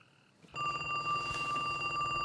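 A telephone rings in a film scene: a steady, loud electronic bell tone that starts abruptly after a brief hush and keeps ringing to the end, with no voices.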